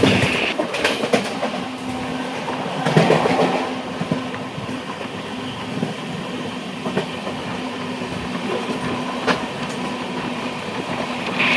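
The Ernakulam–Velankanni Express runs at speed, a continuous close rumble from inside the coach with rhythmic clickety-clack of the wheels and a faint sustained hum, no voices.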